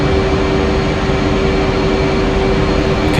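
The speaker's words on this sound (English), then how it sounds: "Congratulations! You have just taken off in a Hornet!" An F/A-18 Hornet jet takes off in the flight game Digital Combat Simulator, a loud, continuous engine roar with a steady low rumble and no pauses.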